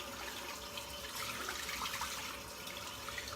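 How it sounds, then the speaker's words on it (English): A shaving brush rinsed under running tap water, a soft continuous splashing hiss of the flowing stream, faint and close, with no voices. "I'm just rinsing the brush out now"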